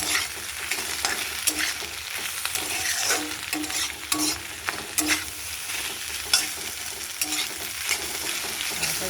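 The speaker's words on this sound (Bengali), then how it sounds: "ডিমটা দিয়ে ভালো করে ভাজবো।" Two eggs fry in a pan with soy sauce and vinegar, a continuous close sizzle with frequent spatula scrapes and stirring knocks, no voices.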